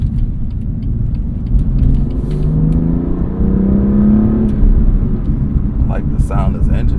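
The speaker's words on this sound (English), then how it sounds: "I like the sound this engine makes too." A BMW M2 Competition's engine pulls hard on a race track, a steady loud throaty drone with rising and falling harmonic sweeps as it revs through gears, with brief wind and road noise near the end.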